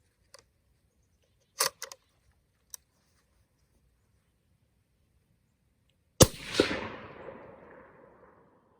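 Suppressed 6.5 Creedmoor bolt-action rifle fired outdoors with an OSS HX-QD Magnum suppressor: a few faint clicks and taps, then one sharp, loud shot that trails off into a decaying rumble over about two seconds.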